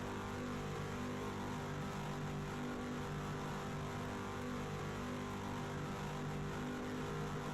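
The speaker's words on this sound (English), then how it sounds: "Can you please not rev?" A car engine in a racing video game at an oval track revs steadily and continuously, a constant mid-pitched drone with layered engine tones and no pauses, moderately loud throughout.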